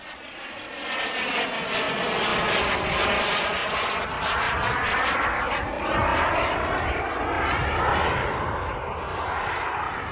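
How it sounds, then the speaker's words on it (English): Radio-controlled model jet aircraft flying past, a continuous loud turbine roar with a rising and falling whine and a steady rush of air, heard alone without talk. "it makes the exciting, rather gentle sound of the very latest chapter in the history of powered, controlled model flight"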